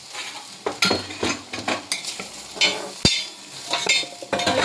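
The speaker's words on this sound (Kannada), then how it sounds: "ತಂಡಿಕಾಯಿ ಚಲೋ ಫ್ರೈ ಆಗ್ಯಾವ ನೋಡ್ರಿ" Ivy gourd frying in a pan, stirred with a utensil that scrapes and clinks against the metal at an irregular pace over a steady sizzle, close and fairly loud with no talking.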